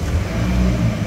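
Engine of a facelifted F55 Mini Cooper S Paddy Hopkirk Edition, a steady low idling rumble close by that holds even for about a second, with no voices.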